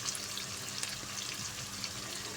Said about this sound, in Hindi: तो अब प्याज को फ्राई होने में 2-3 मिनट लगेंगे।